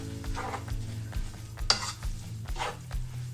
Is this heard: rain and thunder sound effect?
no